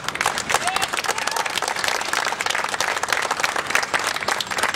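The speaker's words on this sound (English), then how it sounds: "take a second to applaud them" A crowd applauding company retirees, a full sustained roar of many people clapping without a break, heard nearby.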